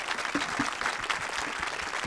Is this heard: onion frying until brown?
no